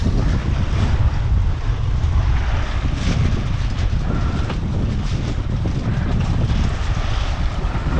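A sailboat moving at four knots in a light breeze, heard as a loud, steady rush of wind and water with constant broadband noise and no talking.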